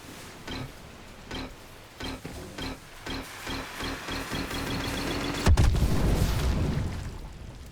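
Steady countdown ticks with low thumps lead into a sudden loud explosion in The Last Caretaker, followed by a rumbling roar that fades.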